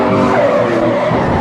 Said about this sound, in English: At 130 miles an hour, the crashes can be spectacular.